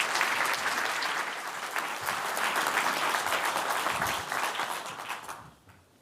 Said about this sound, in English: A big round of applause for Sathya,